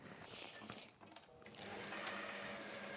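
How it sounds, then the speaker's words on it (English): A sewing machine stitches across fabric pieces for a modern étui, chain piecing from one to the next, with a close, steady mechanical whirr that briefly slows and then runs on louder and continuous. "I'm going to sew across the top of these"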